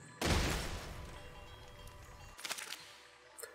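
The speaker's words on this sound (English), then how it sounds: "Right, we've got 3 normal cannons." A loud burst of booming, explosive cannon blasts in the video game Besiege, followed by a few sharper reports and a fading tail.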